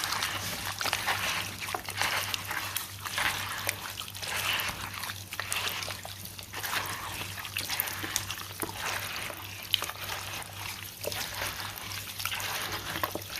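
Wet squishing and trickling as palm kernel pulp is kneaded by hand in water to extract juice, steady and close, with a low hum underneath.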